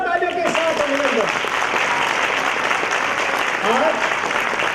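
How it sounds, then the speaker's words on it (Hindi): Dense, loud applause fills a hall at a college induction programme welcoming a guest, continuous clapping throughout with a voice speaking briefly at the start and again near the end. "जोरदार तालियों के साथ अभिनंदन।"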